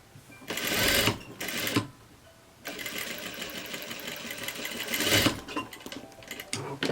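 A sewing machine runs a backstitch while seaming a summer jumpsuit, sounding as close, fast mechanical whirring in bursts: two short runs, a pause, then a longer stretch of stitching.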